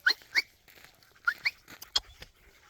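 Dog Link whimpers in a few short, high, thin whines in quick pairs, close by and fairly soft, with a brief pause between bursts and no talk.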